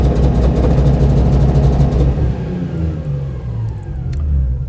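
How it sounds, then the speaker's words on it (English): A car engine revs hard and loud for about two seconds, then the pitch falls and it drops back toward a rougher running sound, with no talking over it. The revving climbs up to an ignition-cut RPM limiter. "I'll just rev the engine up and we'll look at the results."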